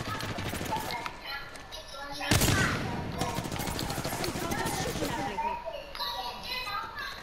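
Rapid minigun fire in the video game Apex Legends rattles out in dense bursts, loudest around the middle, while players talk excitedly over it.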